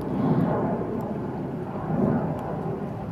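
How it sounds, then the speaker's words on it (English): Low rumbling drone of an airplane passing overhead outdoors, steady and moderately loud with a broad low-frequency roar swelling slightly and fading, no voices over it. "I'm sorry if you hear an airplane right now."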